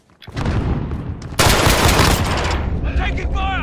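Rapid automatic gunfire in Modern Warfare free-for-all, a P90 burst and loud sustained firing that starts abruptly and continues densely, with electronic game tones near the end.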